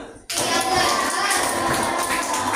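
Many hands clap a rhythm code in a classroom, bursting in after a brief quiet and carrying on loudly and continuously, with children's voices blended into the clapping.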